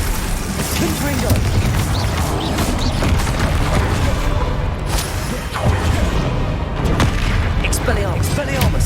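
Confringo blasting spells fired in Hogwarts Legacy combat, a dense, continuous barrage of booming explosions and whooshes with crackling impacts, loud and unbroken throughout, with spell shouts and other battle noise mixed in.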